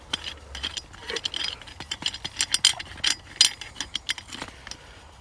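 Screws being done up on a steel post ladder attachment used on farm fencing: a quick series of close ratcheting clicks and small mechanical taps, irregular bursts over a few seconds with no talking.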